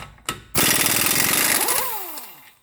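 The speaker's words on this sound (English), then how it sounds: "you can now go ahead and remove the axle nut. It is a 32 mil." An impact wrench loosening the 32 mm rear axle nut on a 2012 Subaru Impreza, a brief tap, then a loud sustained hammering burst that winds down with a falling whine.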